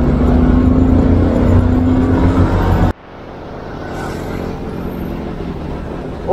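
Heavy holiday traffic heading toward Batu near the Karanglo toll gate during Lebaran 2022, with a loud steady rumble of engines for about three seconds. After that it drops to a quieter, more distant wash of passing vehicles.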